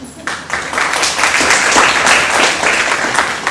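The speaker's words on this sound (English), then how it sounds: "Let's give him a round of applause." An audience at a talk on Ebola breaks into steady, sustained applause, a loud, dense wash of clapping that fills the whole stretch.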